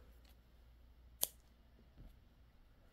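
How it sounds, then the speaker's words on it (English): A single sharp snip of scissors cutting off a bobbin thread during a crochet project, brief and fairly close against a quiet background, with a softer click a moment later. "So you can go ahead and cut off this bobbin"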